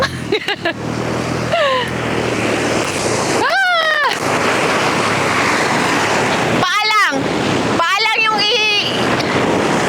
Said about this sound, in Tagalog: pakinggan ang alon